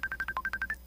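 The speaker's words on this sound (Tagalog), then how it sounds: "Ma, imong cellphone. Gibagting." A cellphone rings with a rapid series of about nine short electronic trill pulses, close and clear, then stops.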